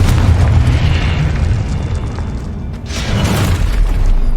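A Confringo blasting spell goes off in Hogwarts Legacy, a loud booming explosion with a rumbling low tail, followed by a second bright burst near the end over continuous game ambience.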